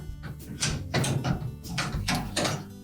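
Plastic trim covers with locking tabs are released and lifted off a Whirlpool refrigerator, giving a few close, sharp plastic clicks and scrapes in quick succession.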